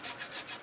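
Rhythmic scratchy rasping of sandpaper rubbed back and forth by hand on motorcycle parts before painting, five or six quick close strokes with no talking.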